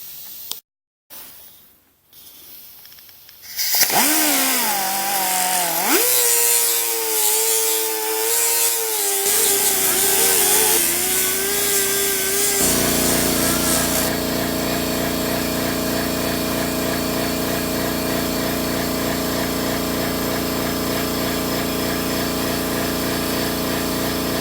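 A power tool polishing a turbo from a Galant VR4 spins up after a few clicks and runs as a loud, steady whine whose pitch shifts as it bears on the metal, continuing alone to the end.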